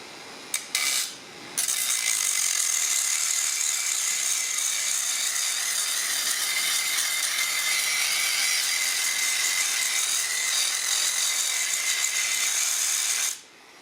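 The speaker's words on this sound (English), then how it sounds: "I'm just going to use the Dremel on a really low speed, just to try and sort of get the worst of it out" A Dremel rotary tool run at low speed grinds rust out of a channel on a Ford ZF Fairlane under restoration, a steady close whirring buzz that starts after a couple of brief bursts and holds for about twelve seconds before cutting off.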